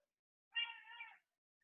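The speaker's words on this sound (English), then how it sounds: "apologies if you can hear my cat yelling" A house cat yelling indoors: one drawn-out, wavering meow lasting about half a second, heard alone against silence, followed by a faint short chirp.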